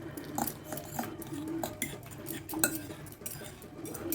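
Chopped chili and tomato are mixed in a dish, with a busy run of clinks and scrapes of a utensil against the bowl, close and moderately loud with no talking.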